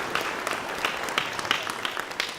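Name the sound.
applause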